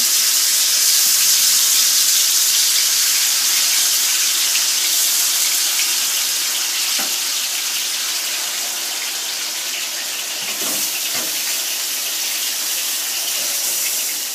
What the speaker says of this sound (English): So the fish is frying about 15 minutes per side.